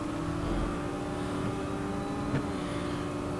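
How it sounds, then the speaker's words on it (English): A Porsche Boxster GTS in the racing game Real Racing 3 pulls away under acceleration, a steady droning engine note holding level throughout with no talk over it. "now I'll accelerate away now"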